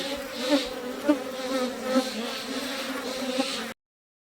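Dense, steady buzzing of many honeybees close by, pulsing slightly in loudness, then stopping abruptly.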